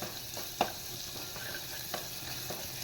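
Onion and garlic frying in a pan as spice paste is added, a soft continuous sizzle with a few light clinks and scrapes, quiet and close, no voices.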